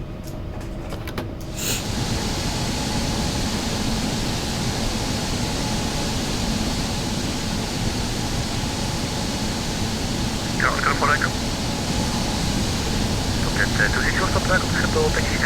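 Air France Embraer E190 taxiing in X-Plane 12, a steady, close jet engine rumble and hiss running throughout, with a brief clicking at the start and faint chirps near the end.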